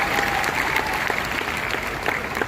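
Dense audience applause fills a hall, loud and sustained at a constant level from start to finish.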